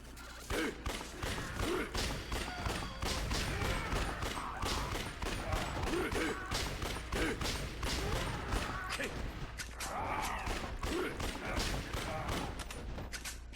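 Shotgun blasts and combat noise in the video game Yakuza Dead Souls, a dense run of sharp repeated reports and mechanical clatter filling the whole stretch with steady loud intensity, with scattered voices mixed in.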